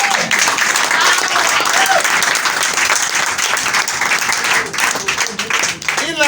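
A church congregation breaks into loud, sustained applause with dense clapping and some voices through the crowd, fading briefly near the end and then picking up again.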